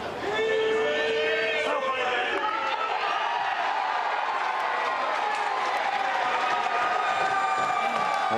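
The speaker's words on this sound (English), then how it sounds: "The crowd love that one." A crowd at a bowls match cheers and applauds loudly and continuously, with whoops rising over a dense wash of clapping.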